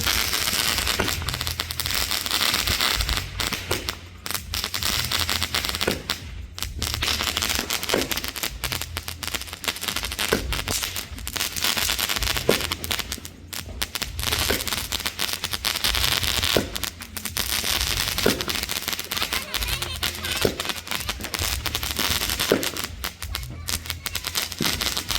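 A 12-shot firework cake fires during a Diwali and Igaas Bagwal celebration outdoors in the hills, its sharp bangs and crackles popping repeatedly over a constant loud rumble of background noise for the full length.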